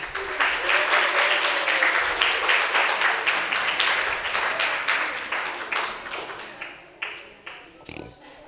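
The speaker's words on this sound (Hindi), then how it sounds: "जैतून के लिए भरपूर तालियां।" Hall audience at a naat competition in an arts council hall in Gujranwala gives loud, sustained applause for a participant, the clapping thinning into scattered claps toward the end.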